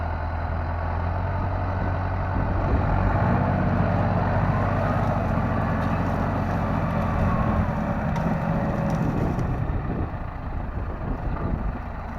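A John Deere 6320 tractor pulls a stuck tractor out with a chain, its diesel engine droning steadily and loudly with a low rumble throughout, without speech.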